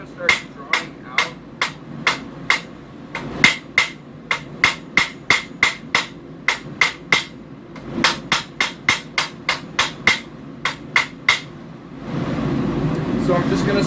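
Rhythmic hammer forging as hunting knife steel is drawn out on an anvil, with dozens of loud, ringing metal strikes in steady bursts over a background hum, ending in a roaring rush like a forge blower.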